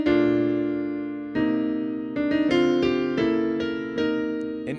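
Piano chords in the middle and upper range, several struck in sequence and left ringing, with no deep bass underneath.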